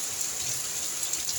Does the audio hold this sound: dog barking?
no